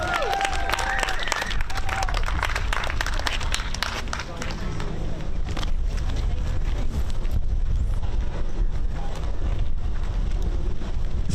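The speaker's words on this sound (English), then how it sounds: "Let's have a round of applause for Scott Deal." A protest rally crowd outside the G7 summit in Calgary applauds and cheers outdoors, a dense sustained wash of clapping at steady loudness with wind buffeting the microphone and voices mixed in.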